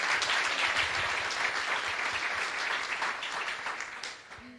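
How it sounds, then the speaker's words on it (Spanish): A crowd applauds steadily, a dense patter of clapping that tapers off toward the end. "Un aplauso también para ella."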